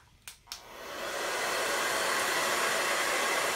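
A hair blow dryer set to high heat switches on after two brief clicks, then runs as a loud, steady broadband whoosh of air for several seconds, close by and alone with no talking.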